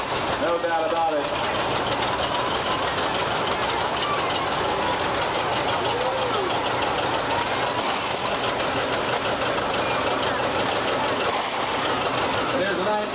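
Engine of a 1994 Model 7600 machine with an air-conditioned cab driving in a parade, a loud, steady rumbling drone that continues throughout, with outdoor background noise.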